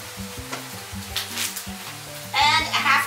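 Diced red onions drop into hot olive oil and burst into a loud, close sizzle about two seconds in, after a quieter bubbling start with light music playing underneath.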